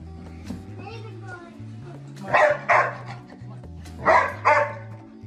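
A dog, a large breed such as a Great Dane, gives two pairs of sharp barks close by, each pair a quick double burst, over a steady low hum and faint background voices.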